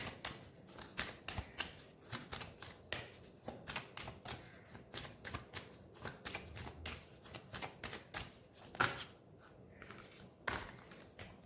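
Tarot cards being shuffled, a steady run of quick crisp riffling flicks close up, with no talk.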